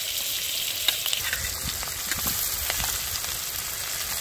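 Garlic drops into a hot pan of oil with cumin seeds and tomato for a singh catfish curry, giving a loud, continuous close-up sizzle dotted with sharp crackles and pops.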